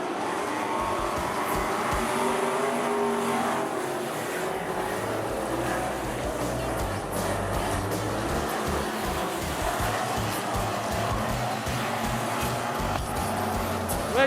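Race cars roar around the Rockhampton Speedway track, loud and continuous engine noise with passing surges and some tire squeal throughout, no speech.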